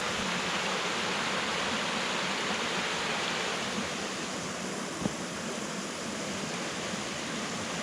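Waterfall cascading down a hillside into a valley along Old Union Road, a steady broad rushing roar of falling water that stays constant throughout, close by, with no voices.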